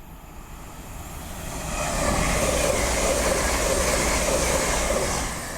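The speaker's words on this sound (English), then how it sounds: "The next train to be barrelling her way through will be a Class 803 for Lumo East Coast, running from Edinburgh Waverley to London King's Cross." A Class 803 Lumo East Coast electric train barrels through Doncaster station on the East Coast Main Line, a broad rushing roar swelling over two seconds and holding steady, loud and close, with no talk.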